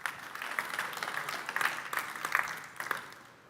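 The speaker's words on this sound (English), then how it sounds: "Big applause." An audience applauds at a hardware pitch event, with a steady wash of clapping that swells and fades over a few seconds, moderately loud and without speech.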